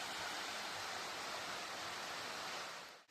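Wei Sawdong waterfall in Meghalaya, heard from the bottom of the falls as a loud, steady broadband roar of crashing water that stays constant throughout and then cuts off abruptly at the end, with no voices.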